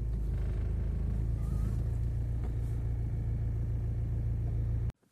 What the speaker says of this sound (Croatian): Ajmo upaliti auto.